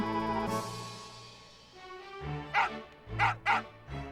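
A dog in the Final Fantasy 8 Remaster video game gives a short series of close, loud barks and yips toward the end, following a quieter stretch of game sound.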